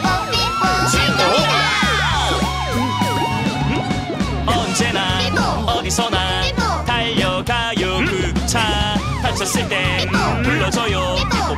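A cartoon ambulance siren goes off inside a bright, busy children's song about an ambulance, its wailing tones mixed with music and sung vocals throughout.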